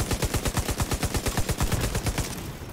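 Rapid automatic fire from a main battle rifle in The Division 2, a steady stream of about two dozen sharp, loud shots that runs almost continuously before tapering off at the end.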